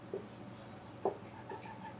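Pen or chalk writing strokes during a Hindi chemistry lesson on exothermic and endothermic reactions, a few brief faint scratches spaced out over a quiet, hissy background with no talk.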